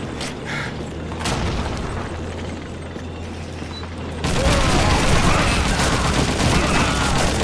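Grenades explode in Call of Duty 2 amid wartime gunfire: a steady din of distant combat, then a sudden loud, sustained burst of blasts and crackling debris near the end.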